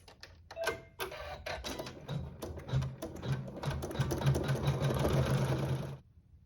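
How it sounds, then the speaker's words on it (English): An embroidery sewing machine stitches decorative details on a quilt block in a quick, rhythmic mechanical whir of needle strokes, starting in bursts and then running steadily and close before stopping abruptly. "just use the thread color of your choice and it will stitch some decorative details for us"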